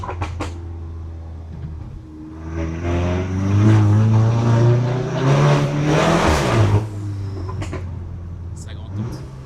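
A Volkswagen Golf GTI Performance engine roars and revs hard, swelling to a loud peak mid-clip with audible air box intake noise, then easing off, with voices talking over it.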